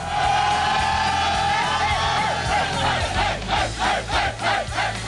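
A group of voices raises a loud, sustained yell after a pre-concert prayer circle backstage at a concert, a rowdy chorus of whoops and shouts that swells and pulses toward the end.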